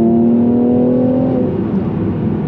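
A Mercedes-AMG C43 coupe's 3-liter, 385-horsepower engine revs loudly, then the pitch steps down as it downshifts, a strong close drone that settles toward a lower rumble.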